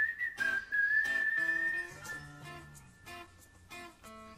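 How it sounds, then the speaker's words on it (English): A melodic whistled tune carries over a song's instrumental backing, then fades as the music continues more softly. "And I dig the whistling at the end."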